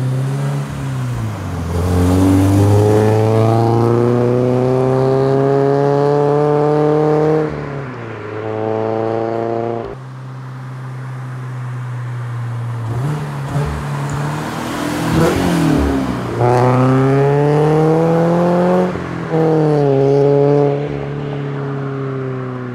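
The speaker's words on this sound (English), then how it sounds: "I would recommend this Magnaflow exhaust system. It's got a beautiful bass sound to it" A car fitted with a Magnaflow muffler exhaust revs repeatedly, each deep bass-heavy rev climbing and falling back in loud, close waves with no talking.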